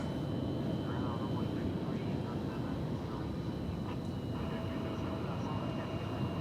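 A Polar Air Cargo airliner taxiing at DFW Airport at night, a steady broadband engine rumble and whine held at a constant level, with faint voices under it.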